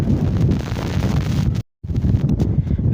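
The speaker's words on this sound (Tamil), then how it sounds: "ஓ அம்மாலை காற்றடிக்குது, பயங்கர காற்று சீரியஸாக" Strong wind gusts at Jaffna Fort buffet the microphone, making loud, steady rumbling roar. A brief dropout of total silence falls near the middle before the blustering resumes.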